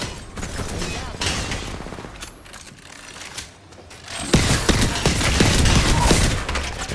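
Gunfire in a shooter video game, a dense burst of rapid shots building over the last few seconds after a stretch of scattered shots and clatter, with a voice briefly speaking.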